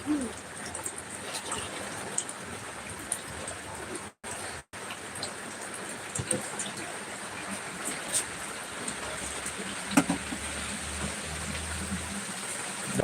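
Heavy rain hisses in a steady, dense wash throughout, with a brief dropout midway and faint occasional voices.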